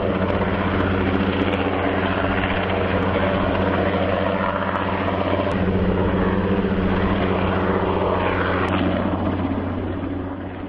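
Helicopter lifting sections of a MARCS radio communication tower into position, a continuous loud rotor and engine drone with steady throbbing hum, sustained throughout and slightly easing at the end, no speech.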